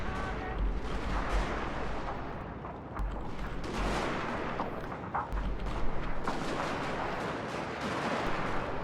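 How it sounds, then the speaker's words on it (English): Troops firing at will in the Total War Shogun 2: Fall of the Samurai video game, dense overlapping musket and artillery volleys rumbling continuously, with booms and crackling shots throughout. "I am actually just going to go into fire at will over here and let my guys get some shots"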